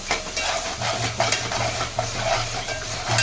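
Spice masala with turmeric and chilli powder being stirred in a pan for egg biryani, a close sizzle with rhythmic scraping strokes and a low humming tone underneath, no voices.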